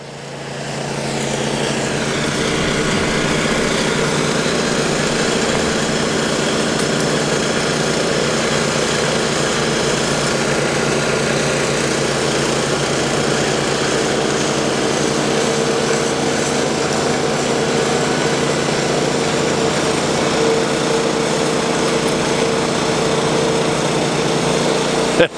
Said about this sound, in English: It's like driving a wonky skid steer.